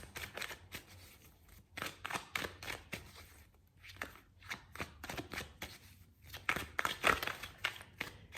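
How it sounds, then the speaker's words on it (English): Playing cards are shuffled repeatedly up close, crisp riffling bursts and soft taps coming in a steady, uneven rhythm against a quiet background. "So let's shuffle some cards."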